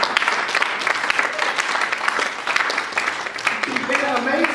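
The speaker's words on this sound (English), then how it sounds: "I think that we should clap off of that." A seated crowd at a pastor's travel-company presentation claps together, a brisk, fairly near patter of many hands lasting a few seconds, with a bit of cheering and voices rising toward the end.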